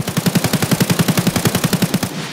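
Rapid automatic gunfire in the Escape From Tarkov shooter game: a steady burst of about twenty loud, evenly spaced shots over two seconds, then it stops abruptly.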